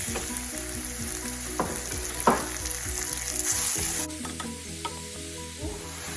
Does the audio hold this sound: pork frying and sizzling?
yes